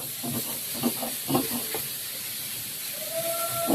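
Pangas fish heads frying in hot oil give a steady, close sizzling hiss with a few soft clatters early on. A brief tonal whine rises near the end.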